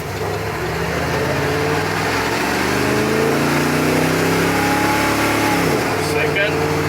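A car with a Turbo 400 automatic transmission that slips in second takes off hard, its engine rising in pitch, dropping and climbing again through the upshifts, steady and close from inside the cabin.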